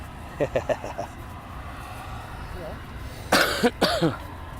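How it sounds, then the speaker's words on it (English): A person coughs several times in a short burst, then again in heavier, louder coughs after a pause, close to the listener. "sorry for the coughing, guys"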